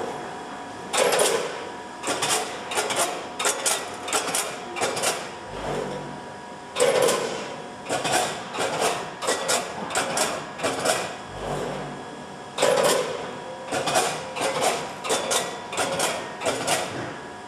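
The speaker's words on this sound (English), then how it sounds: "if you press the clear, it will basically run all the feeders and the buckets to empty" A 10 or 14 head multi-head weigher in clear-out mode runs all its feeders and buckets empty, giving repeated bursts of rattling, clacking mechanical action in rhythmic cycles, close and fairly loud, with no talk.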